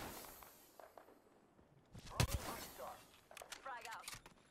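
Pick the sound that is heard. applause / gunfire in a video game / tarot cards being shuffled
gunfire in a video game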